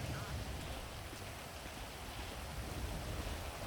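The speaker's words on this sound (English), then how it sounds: "I was out in the rain to try to wash it off" Steady rain in the video game GTA V, a dense, even hiss of falling drops that continues without a break, fairly faint and heard alone.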